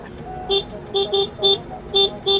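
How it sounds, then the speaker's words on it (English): Car horns honking at passing traffic as a motorcycle rides around, six short toots in an uneven rhythm, fairly loud and close, with no talk over them. "Tell them to honk."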